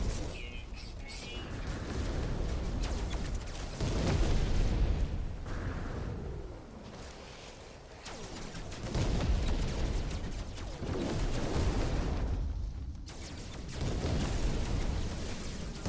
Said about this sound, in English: I got a storm incoming